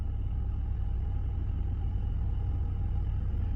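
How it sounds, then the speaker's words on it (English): A car engine idles smoothly and steadily after automatic transmission fluid was poured into it, giving a continuous low rumble with no fluctuation, close and even throughout. "There is no idle fluctuation, there is no rough idle."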